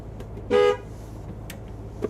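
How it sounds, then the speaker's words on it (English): A single short blast of a loud, deep motorhome air horn on a Newmar Ventana, about a quarter second long, over quiet background hum. "Turn your air horn on."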